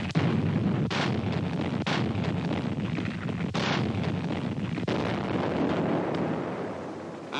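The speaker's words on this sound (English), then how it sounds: "the warships laid down a barrage as cover for the main landing forces" Naval barrage from warships shelling a beach ahead of the main troop landing in the Pacific war, a dense continuous roar of booming blasts with sharp cracks recurring roughly every second, loud and sustained throughout.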